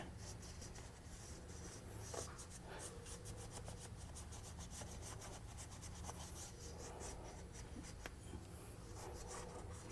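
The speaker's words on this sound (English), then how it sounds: "I'm just going to go through and just wipe all along here" A cloth wiping along the seating surface of a Cybertruck wheel hub during a wheel spacer install, giving a steady, continuous close rubbing and scraping texture with brief scuffs, no talking.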